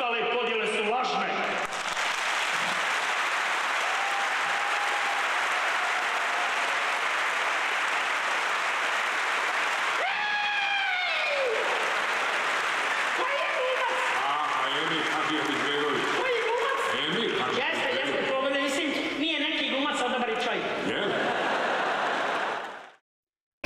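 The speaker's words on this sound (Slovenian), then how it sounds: "Čuli smo da je publika burno pozdravila vaš govor." Audience applause at a theatre performance, broad steady clapping filling nearly the whole stretch, fairly loud and continuous, with a few voices and cheers rising through it near the middle.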